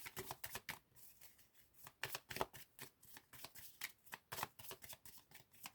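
A deck of cards is shuffled and drawn during a tarot-style card reading, giving repeated quick riffling bursts and soft flicks at close range in an uneven rhythm, with no talking.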